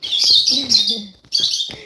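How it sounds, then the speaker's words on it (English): Birds chirping and tweeting inside a goat house, loud and close, with bursts of high twittering calls broken by a brief pause, and no talk over them. "She just doesn't like how much noisy they are. Those crazy noises they make"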